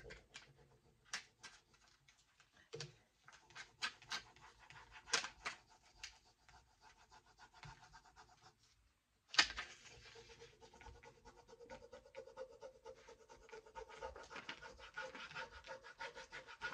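A wooden applicator scratches and rubs across a Dixie Belle farm-themed furniture transfer, faint, close scraping strokes in irregular bursts, with a brief louder scrape partway through.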